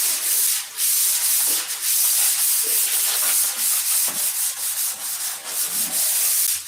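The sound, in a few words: sanding a wooden P-47 model airplane fuselage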